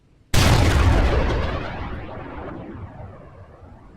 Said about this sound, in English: Man the cannons. Enemy ship to the southeast. Fire broadside.